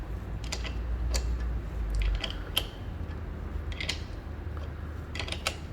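A 13mm wrench tightens a bolt on a bicycle drivetrain part, giving a series of close, dry clicks and ratchet-like ticks over a low mechanical hum, with no speech.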